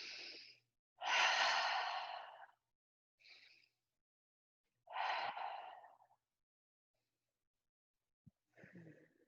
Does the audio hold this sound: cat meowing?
no